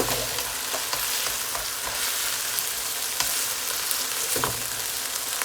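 Half-cooked chicken and onions stir-fry in a pan for noodles, a dense steady sizzle broken by occasional sharp clicks of a spatula against the pan, close and with no talking.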